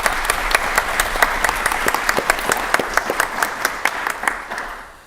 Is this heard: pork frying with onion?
no